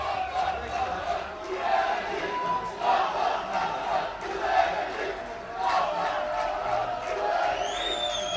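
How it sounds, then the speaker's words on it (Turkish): Cizre Spor supporters chant together in a football stadium during a match against Turgutlu Spor, a dense, steady roar of a distant crowd with rhythmic swells, while a commentator speaks over it. "Cizre Spor taraftarları Cizre Spor'u çağırdılar"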